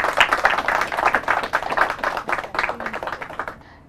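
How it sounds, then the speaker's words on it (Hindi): A studio audience at a televised team quiz claps steadily for a correct answer, a dense burst of applause lasting a few seconds before trailing off. "तालियां"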